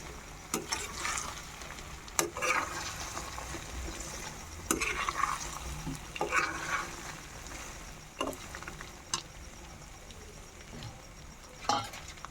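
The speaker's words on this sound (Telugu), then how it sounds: "ఇవన్నీ ఒకసారి బాగా కలుపుకోవాలి. అల్లం వెల్లుల్లి పేస్ట్ అనేది వీటికి బాగా పట్టాలి." A chicken pickle mixture with ginger garlic paste and fenugreek seeds being stirred in a pan, heard as a low steady sizzle broken by several distinct scrapes and knocks of the spoon at irregular intervals.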